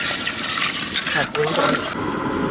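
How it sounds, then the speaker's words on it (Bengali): Water poured from a vessel into a pot of duck meat cooked with chui jhal, a broad rushing splash that swells and shifts over about two seconds, with voices talking alongside. "এবারে আমরা দিয়ে দেবো জল দাও তো সব দাও"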